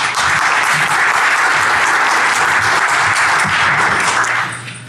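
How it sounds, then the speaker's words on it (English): A conference audience at Black Hat USA 2013 breaks into loud, sustained applause, many hands clapping together, fading out at the end. "let's give a round of applause for Takahiro"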